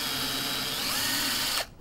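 A power drill bores into a wall for an eye bolt, a steady whining buzz that holds loud and close for over a second before cutting off abruptly.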